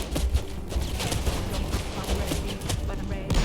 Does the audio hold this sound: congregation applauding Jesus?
no